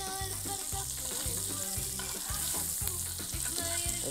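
Sauce for cavatoni with quail sizzling in a pan with butter, a dense continuous frying crackle over a repeating rhythmic background beat, no voices.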